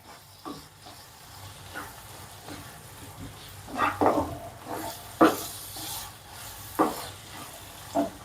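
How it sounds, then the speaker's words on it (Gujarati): Green turmeric curry with yogurt being stirred briskly in a pan over medium heat, scraping and clacking strokes recurring irregularly over a soft steady sizzle, fairly close and alone. "હલાવતા જ રહેવાનું આ રીતે."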